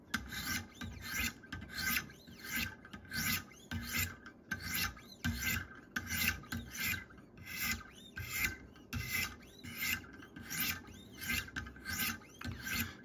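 A knife blade is drawn across a sharpening stone during finishing to even out the scratch pattern, giving a close, rhythmic rasping scrape, one stroke roughly every second, steady and unbroken by speech.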